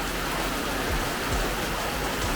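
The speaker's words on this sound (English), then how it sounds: "so they don't get wet in the rain." Steady rain falls outdoors close by, a continuous even hiss of drops with no breaks and no voices.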